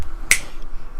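One crisp finger snap, close and sudden, rises over a faint room hum and fades quickly.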